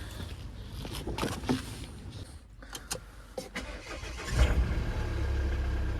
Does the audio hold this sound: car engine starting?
yes